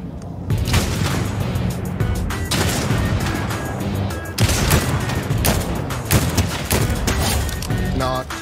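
Video game gunfire aimed at the player, a fierce barrage of repeated loud shots and blasts in uneven bursts close by, with brief gaps and little talk.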